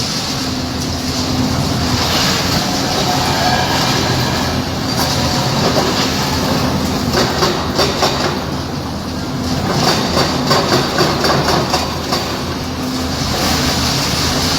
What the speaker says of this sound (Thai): ปักแล้วลากลงมาเลย แรงเยอะดีคันนี้